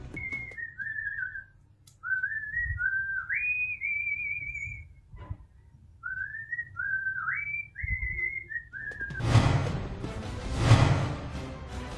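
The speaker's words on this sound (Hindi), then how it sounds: "उन्होंने 5 मिनट में बिना होठों को पकड़े राष्ट्रगान सहित 11 गानों की सीटी बजाई" A person whistles songs without using their lips, producing a series of clear, melodic whistled phrases with brief pauses between tunes, followed by a burst of broad noise near the end.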